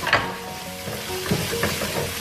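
Onion, garlic and tomato sizzle steadily in a hot pan for seafood pasta, with soft stirring scrapes over a constant frying hiss, close and moderately loud.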